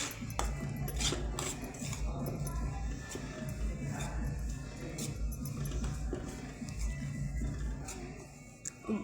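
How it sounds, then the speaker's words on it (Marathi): Semolina roasting in a pan over low heat, with a spoon steadily clinking and scraping against the pan, a soft continuous rustle and low background hum throughout. "भाजत आहे रवा एकदम पावर कमी ठेवून गोल्डन ब्राऊन होईपर्यंत मस्त भाजून घ्यायचा आहे"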